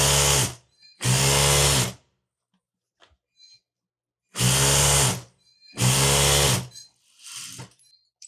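A sewing machine stitches the placket of a Saudi jubba in four loud, close bursts of rapid whirring, each lasting about a second, with quiet pauses and faint handling clicks in between.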